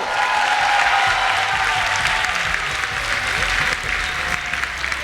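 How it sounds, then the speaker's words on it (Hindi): A studio audience on a Pakistani television game show breaks into loud, sustained applause, a dense continuous roar of many hands clapping that holds steady throughout. "भरपूर तालियों में मुबारकबाद दीजिए जवाद को।"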